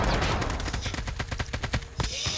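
Rapid gunfire bursts from a Call of Duty Mobile battle royale match, a string of sharp shots in quick succession, loud and close, with a brief pause before the firing trails off.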